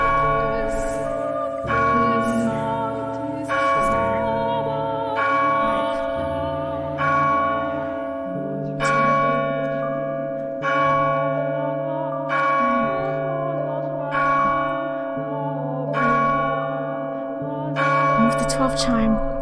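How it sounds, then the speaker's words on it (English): A church bell in a video game tolls at noon on a festival day, struck about ten times in a slow, even rhythm, each stroke ringing out loud and clear with long overlapping resonance and no talk over it. "at noon on the day of the festival, the church bell tolled."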